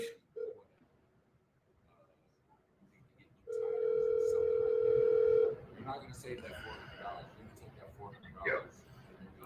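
A steady telephone dial tone plays loudly for about two seconds, set between quieter stretches of ambient room noise and soft talk.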